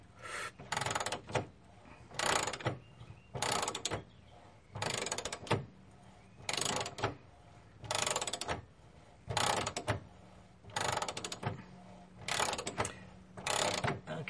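A ratchet clicking steadily as it turns a bolt on the rear suspension of a 1979 Fiat, quiet and close, in regular bursts of rapid clicks with short pauses between strokes.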